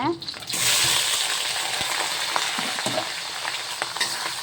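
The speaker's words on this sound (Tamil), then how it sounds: "வெங்காயமும் நல்லா பொரிஞ்சு வரட்டும்" Onions fry in hot oil with other ingredients for pudina rice, and the pan gives off a steady, close sizzle that begins with a sudden burst and carries light stirring clicks.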